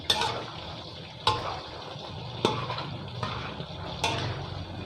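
Pork frying in a pan over heat that is turned up and down, giving a steady bubbling sizzle with a few sharp clinks of a utensil against the pan every second or so, close and fairly quiet.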